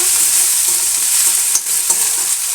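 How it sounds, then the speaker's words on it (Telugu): Ginger garlic paste hits hot oil in a frying pan for an egg omelette tomato curry, giving a loud, continuous close sizzle and frying hiss with faint stirring scrapes. "జింజర్ పేస్ట్ వేస్తున్నామండి, అంటే అల్లం వెల్లుల్లి పేస్ట్."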